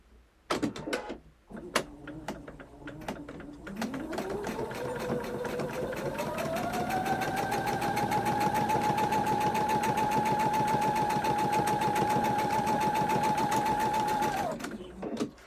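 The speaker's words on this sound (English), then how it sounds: "So now we're just going to stitch that seam up." A sewing machine stitches a seam on a churn dash quilt block, starting with a few short bursts and then running as a steady, continuous whir for about ten seconds before stopping.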